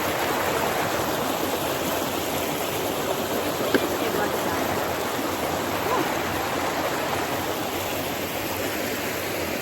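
Country river running beside a pool, a steady, close rushing of flowing water that fills the whole stretch at an even level with no voices over it.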